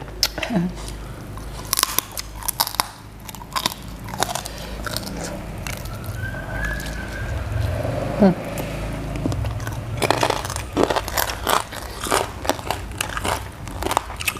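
Crispy roast pork bitten and chewed, repeated loud close crunches in an irregular rhythm, with people talking at times between bites.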